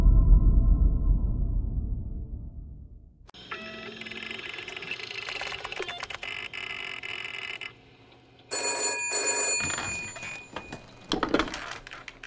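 A telephone rings in Call of Duty Black Ops Cold War after a low rumble fades. A repeated electronic trill sounds in short bursts, fairly close and clear, with no voices over it.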